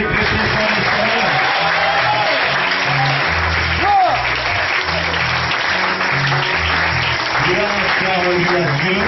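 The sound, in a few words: congregation applauding the Lord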